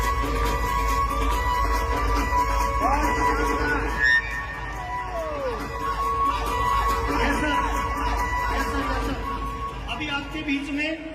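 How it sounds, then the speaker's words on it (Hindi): A stadium audience at a business anniversary event in New Delhi cheers and shouts after a dance performance, a loud crowd roar with whoops and children's shouts, while an amplified host speaks over it. "एक बार जोरदार तालियों से सम्मान लेंगे हमारे डांस परफॉर्मेंस को"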